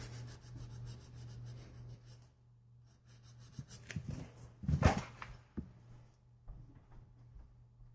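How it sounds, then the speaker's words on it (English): A hand file works over a cast Juggernaut figure model in uneven bursts of close, rasping scraping strokes, with quiet gaps between them and a low steady hum underneath. "just file the heck out of it"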